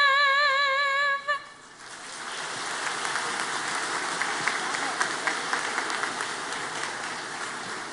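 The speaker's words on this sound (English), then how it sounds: "Let's give her a round of applause" Applause from a spring commencement audience follows the national anthem, rising after a brief sung ending into a broad, steady wash of clapping that holds evenly throughout.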